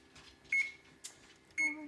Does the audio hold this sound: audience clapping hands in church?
no